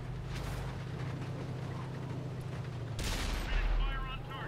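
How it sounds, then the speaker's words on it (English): Tank gunfire in World of Tanks, a T-34-88 taking a hit, with a loud impact burst around the middle over a steady engine rumble, and rumbling low noise continuing after. "Wait a minute, somebody just shot me."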